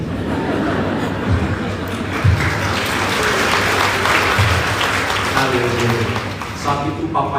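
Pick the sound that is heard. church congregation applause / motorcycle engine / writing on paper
church congregation applause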